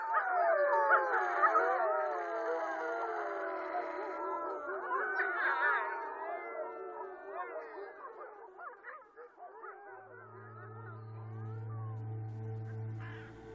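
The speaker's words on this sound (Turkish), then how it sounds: "Kurtların ava başlamak, selamlaşmak, bölgelerini belli etmek, sürü içi dayanışma duygusunu artırmak ya da yalnızca iyi hissetmek için bile uluduğu tahmin ediliyor." Wolves howling in long, rising and falling wavering calls that overlap as several voices join, fairly close and clear, with a low steady droning tone entering toward the end.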